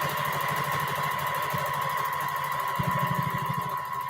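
A home sewing machine used for feather quilting runs at a moderate, less than full speed. It makes a continuous motor whir with a rapid rhythmic needle chatter, close and steady, with a slight surge near the end.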